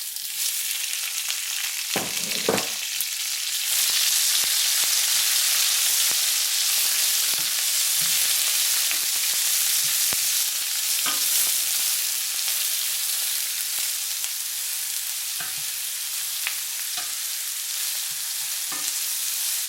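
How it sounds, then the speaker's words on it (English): Sliced mini peppers stir-frying in hot cooking oil for a cumin beef stir fry, a loud, steady sizzle running throughout with occasional scrapes and clatters from stirring, close by and without talk. "We're going to add the sliced up mini peppers."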